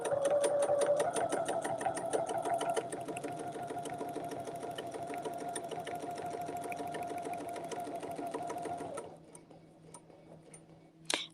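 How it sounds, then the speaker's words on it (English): A sewing machine stitches a quilt during ruler work, its needle ticking in a fast, even rhythm up close for about nine seconds before stopping, leaving a quiet room. "so I'm going to stitch all the way back down"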